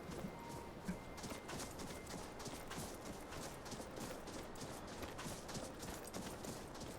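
Horse hooves clip-clopping in the Skyrim video game: a very faint, steady stream of soft hoof clops under broad background noise, without speech.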